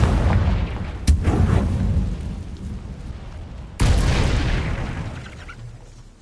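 Two loud Confringo blasting-spell explosions from Hogwarts Legacy, each a sharp booming burst followed by a long rumbling decay, the second hitting about two and a half seconds after the first.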